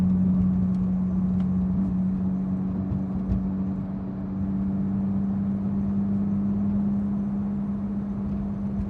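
A Porsche GT3 with a manual gearbox cruises through a residential neighborhood, its engine holding a steady low drone under constant road and wind noise inside the cabin, with no talk.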